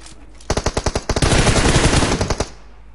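Automatic gunfire in the video game PUBG Mobile: a close, loud burst of evenly spaced shots that speeds into rapid continuous fire for about two seconds, then stops.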